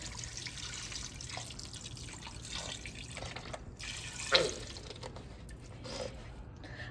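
Liquid pours quietly and steadily into a pan for cooking pasta, a faint trickle with a few soft splashes and no talking.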